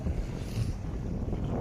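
Big waves hit a small boat in strong wind, heard as a brief, low, rumbling wash with heavy wind buffeting the microphone and no voices.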